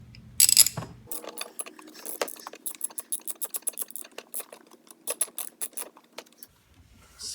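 A ratchet turning a spark plug socket on a Xciting 500 scooter, loud close clicking runs of pawl ticks in rapid bursts, with a metallic clank at the start and brief pauses between strokes.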